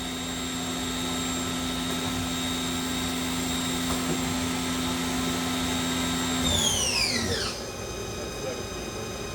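A 2006 Haas SL-10 CNC lathe spindle runs at high speed with a steady, loud whine and dense hum, then near the end its pitch sweeps sharply downward as it slows.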